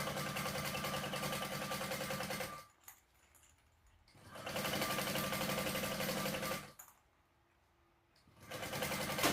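A sewing machine top stitches a fabric bag in long steady runs of fast, even needle chatter, stopping twice briefly before starting up again close by.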